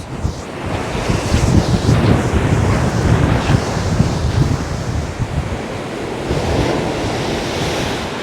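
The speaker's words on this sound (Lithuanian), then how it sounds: "O čia yra Atlanto vandenynas. Pažiūrėkit, kokias bangas." Ocean waves roll and crash continuously, loud and close, mixed with heavy wind buffeting the microphone; no voices.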